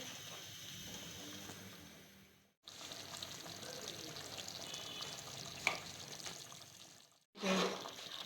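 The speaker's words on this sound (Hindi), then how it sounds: "इसको हम मज़ीद 2 मिनट अच्छी तरह से भून लेंगे" Quail cooking in ghee with cream and coriander in a karahi, sizzling and frying steadily up close while a spoon stirs now and then, with a brief clatter and short pauses between stretches.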